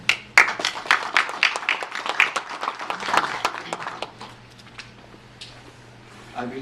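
Applause for boxer Sergio Martinez at a press conference in New York: a quick run of close, crisp hand claps that thins out into a few scattered claps before fading into room noise.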